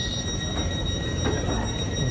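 Train pulling into a station in Italy, a steady rumble of railcars with a faint high whine and a brief squeal, continuous and fairly close, with no talking.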